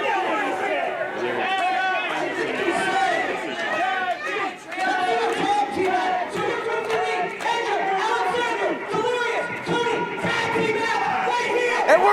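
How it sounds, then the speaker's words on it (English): A wrestling crowd at a live match erupts in loud, sustained cheering and chatter, a dense roar of many voices filling the whole stretch without letup. "This crowd is coming unglued at the prospect."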